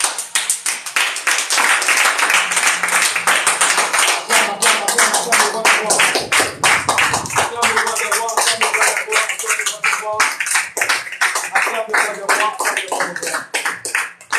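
A church congregation claps rhythmically and steadily in praise of the Lord, loud and close, with voices cheering and singing underneath throughout.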